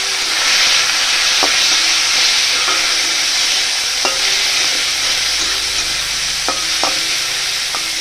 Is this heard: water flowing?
no